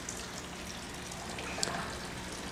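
Water trickles steadily through the three NFT gutters of an aquaponics system fed by a 1,000-gallon fish tank, a soft continuous wash of flowing liquid with a faint drip near the end.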